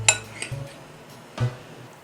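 A spoon clinks and scrapes against a dish while stirring onion pickle, two or three close, sharp metallic taps separated by brief quiet, with no voices.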